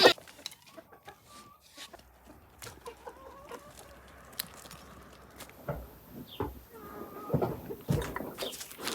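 Village chickens clucking around a farmyard, scattered soft clucks and short calls near and farther off, with a few sharp knocks and rustles and brief human voices in the background.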